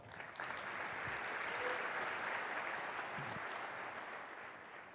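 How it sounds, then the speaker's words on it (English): Large keynote audience in a Las Vegas conference hall applauding, a dense, steady wash of clapping throughout, moderately distant and fairly quiet, with no speech over it. "Please give yourself a round of applause."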